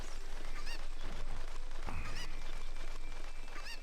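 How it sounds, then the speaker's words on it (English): A chicken in the video game The Legend of Zelda: Ocarina of Time gives honking, squawking fowl calls over steady game background sound, with one sharper call near the middle. "Has that chicken always been there?"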